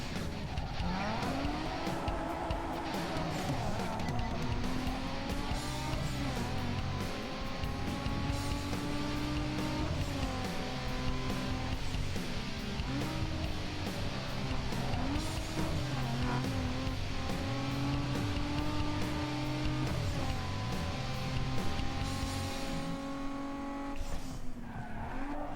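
Race cars tear through a drag race in NFS Underground 2, engines droning and rising in pitch through repeated gear shifts, with tire squeals and skids layered over a constant, dense roar for the full stretch.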